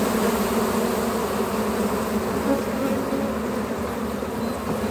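Locally hybridized Caucasian F1 honeybees buzz steadily at their hive, giving a dense, close, continuous hum with no pauses.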